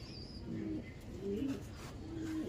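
Low, soft cooing of a pigeon repeated a few times up close, with faint chirps and background noise.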